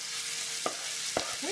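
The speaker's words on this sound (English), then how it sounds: "I'm going to just add our potato mixture back into the skillet in just 1 layer." A sweet potato hash mixture sizzling in a piping hot skillet, a soft steady hiss with two brief scraping knocks as it is spread out, fairly quiet and with no voices.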